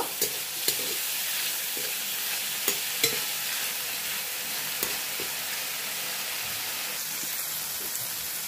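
Prawns fry in a pan with oil for a sour amboli greens dish, a steady close sizzle broken by a few sharp clicks and pops as they are stirred and turned.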